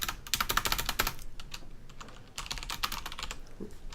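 Rapid, steady typing on a computer keyboard while writing code, with dense clusters of close clicks and brief pauses between bursts, heard alone without talk.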